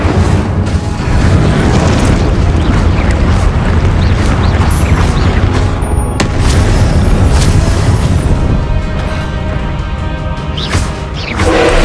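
Fire spell Incendio cast in the Hogwarts Legacy video game, heard as a continuous roaring blaze with heavy low booms and bursts, loud and close throughout with no talk over it.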